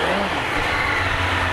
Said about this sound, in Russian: Мотоцикл просто поет. Легко отзывается на поворот газа.